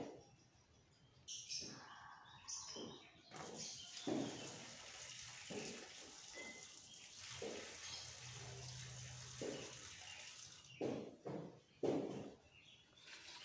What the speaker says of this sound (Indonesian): Coba kita buang airnya.